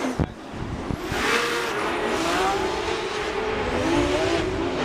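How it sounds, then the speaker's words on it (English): A drift car in the Top 32 round of Formula Drift Seattle 2025 roars past with a loud, raspy exhaust note, revving and rising in pitch, then sustained under high load, with faint tire squeal. "listen to that exhaust note"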